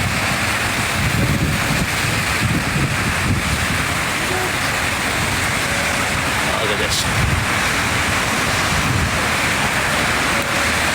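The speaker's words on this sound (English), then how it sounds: "Man, the rain is getting harder and harder." Heavy rain in downtown Beijing makes a steady, dense roar that stays loud throughout, with gusting wind noise. Someone speaks briefly over it.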